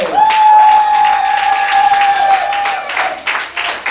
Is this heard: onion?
no